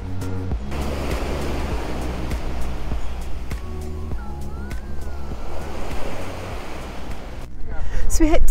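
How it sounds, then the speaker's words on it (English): Strong wind buffets the microphone at the windy seafront port of Port de Soller, Mallorca, with steady rough surf and water noise throughout and a rising gust near the end; no talk. "There's quite a bit of wind on the water."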